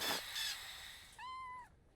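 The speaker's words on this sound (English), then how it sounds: "May I present young Pounce and his cat, Bert" A single cat meows once, a clear rising-then-falling cry, in the Sherlock Holmes vs. Jack the Ripper video game, following a brief soft rustle in otherwise quiet surroundings.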